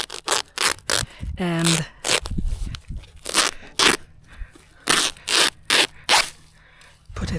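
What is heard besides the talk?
cutting weed-barrier cloth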